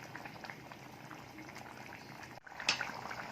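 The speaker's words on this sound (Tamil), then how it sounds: "நல்லா கொதி வந்த பிறகு ஆஃப் பண்ணிக்கோங்க" A pot of dried-fish curry, karuvadu kulambu, bubbles at a steady boil, a soft continuous burble heard close up with a brief metallic clink near the end.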